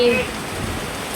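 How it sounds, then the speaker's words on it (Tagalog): Heavy rain pours down in a dense, steady hiss of drops hitting surfaces, with a voice briefly heard over it. "Lakas po ng ulan."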